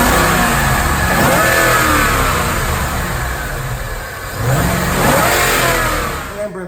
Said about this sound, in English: I'm going to show you a dyno pull on this car with our Roush 626R Supercharger